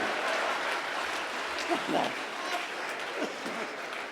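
Applause from an audience at a Hindi poetry recital, a fairly faint, steady patter of many hands with a few louder bursts, continuing evenly throughout.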